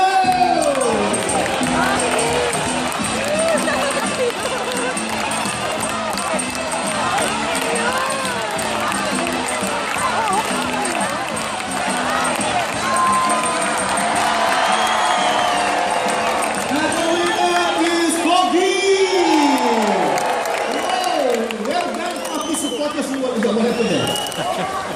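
A live audience at a bird show in Jurong Bird Park cheers and shouts steadily for a bird contest, a dense, loud crowd roar with children's voices rising and falling throughout.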